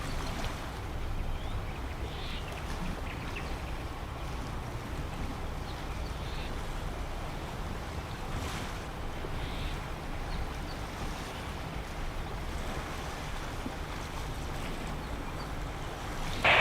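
A jungle cruise boat in a Roblox game glides along the water with a steady, even wash of water and wind noise that holds at moderate level throughout, no talking heard.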